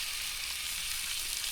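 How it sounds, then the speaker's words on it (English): A steak sears steadily in a pan on a camp stove, with a continuous close hiss and sizzle and no pauses. "So the steak is cooking, oh, very well actually."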